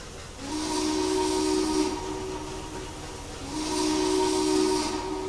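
A steam whistle from a Russian Decapod 2-10-0 locomotive in the Trainz Railroad Simulator game sounds twice, each a loud, sustained chord of about one and a half seconds over a hissing steam background.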